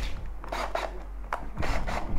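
Abrasive bit spun in a power drill grinding a part of a Dominator exhaust being fitted to a Yamaha Tracer, a close, rough rasping in several short bursts with brief gaps between.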